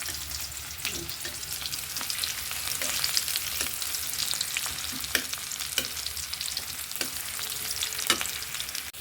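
Steady sizzling of onions frying in hot oil, with occasional louder crackles and stirring scrapes, close and continuous throughout.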